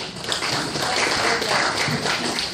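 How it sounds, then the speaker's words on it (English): An audience at a community luncheon applauds for a speaker, a steady, dense patter of clapping hands that fills the room evenly throughout. "Let's give her a round of applause"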